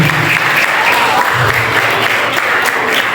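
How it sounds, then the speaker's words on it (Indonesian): Audience applause at a graduation ceremony at an Islamic boarding school in Bangkalan, a dense, steady burst of clapping lasting the whole few seconds, loud and close. "Tepuk tangan semuanya dulu."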